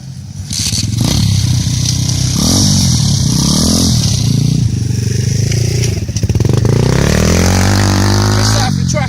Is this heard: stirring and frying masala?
no